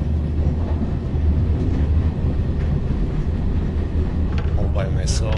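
Steady low rumble of an old 1980s Portuguese passenger train riding along, continuous and fairly loud inside the carriage, with a faint brief squeal near the end.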